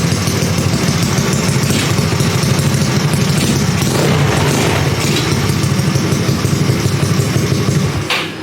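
A 160 motorcycle engine idles steadily and loudly nearby in a shop, a continuous low rumble with a rattling mechanical texture, cutting off abruptly near the end.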